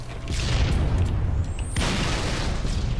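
Grenade blast in the video game Halo, a heavy rumbling boom that swells and lingers, followed by a second thud and rolling blast noise amid game sounds.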